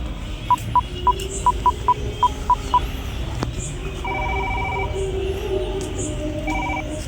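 A quick run of about ten dialing beeps, then a phone ringing tone pulses twice in the background amid room noise.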